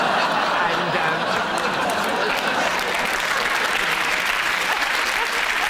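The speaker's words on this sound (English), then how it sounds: "Just think about what you're applauding" A British comedy panel show's studio audience applauds steadily throughout, a dense, even wash of clapping with faint chatter and laughter mixed in.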